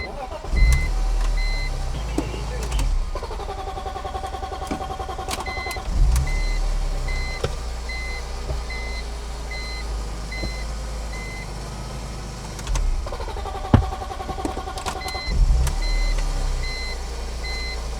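A cheap BMW E46 M3 idles and pulls away with a steady engine drone and surging revs, while a repeating electronic beep chimes throughout.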